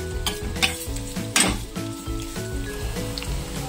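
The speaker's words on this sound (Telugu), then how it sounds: "అలాగే రెడ్ చిల్లీ, అలాగే ఆనియన్స్ గరిట తీసుకొని ఇలా మిక్స్ చేసుకోవాలి." A ladle mixes red chili and onions frying in a pan for buttermilk rasam, producing a close crackling sizzle with repeated metallic scrapes and clinks against the pan, one stroke louder than the rest.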